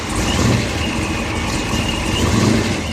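Engine of the Eleanor Ford Mustang, a 725-horsepower classic American muscle car, rumbling loud and close with a steady, dense roar and slight surges, nothing else over it.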